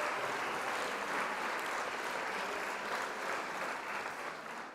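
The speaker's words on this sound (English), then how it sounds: "Everybody hold your applause." Dense, steady applause from a large audience at a trading seminar event, sustained loudly for the full stretch with no talking over it.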